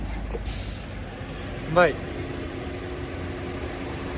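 A 2019 Hyundai Sonata DN8 with a factory 2.0-litre gas engine idles with a steady, even low hum. Someone talks over it, and a short squeak cuts in partway through.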